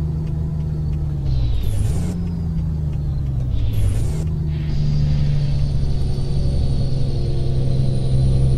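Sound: truck driving on road in Euro Truck Simulator 2 video game

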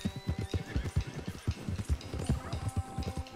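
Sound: horse neighing in Red Dead Redemption 2 video game

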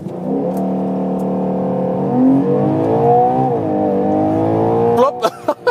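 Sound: Ferrari Purosangue launch control acceleration

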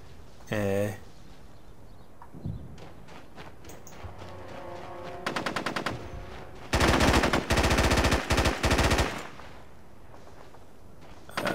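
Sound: gunfire in video game Socom 3 U.S. Navy Seals

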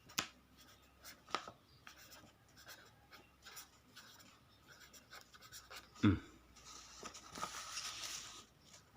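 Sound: writing on paper at a tilted table

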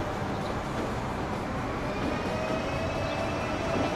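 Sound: ICE train passing in Transport Fever video game

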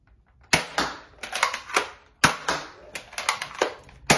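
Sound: NERF N-Strike Elite Disruptor blaster firing darts

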